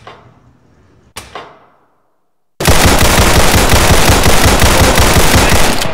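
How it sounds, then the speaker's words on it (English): Pistol fire on a shooting range in Black Mesa, with two sharp isolated cracks early on, then a sudden dense, loud burst of continuous rapid fire that carries on to the end. "Hold your weapon in a two-handed grip, both thumbs forward, feet shoulder-width apart. Put 7 rounds in the center ring of each target."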